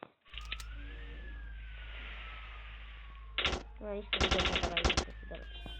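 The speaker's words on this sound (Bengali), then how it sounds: "সামনে গুলি করতেছি" Gunfire in a video game, with bursts of rapid electronic shots near the end over a steady droning game soundtrack and a rising synthetic tone, while a person talks over the action.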